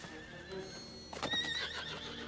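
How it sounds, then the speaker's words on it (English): Horses neigh and whinny loudly in a sharp cluster of cries midway, with hooves clattering and galloping beneath, after a quieter opening of music-like background. "Look at the horses."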